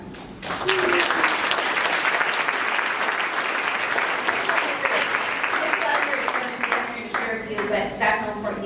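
An audience at a talk breaks into sustained clapping, dense and fairly soft, lasting several seconds with a few voices mixed in.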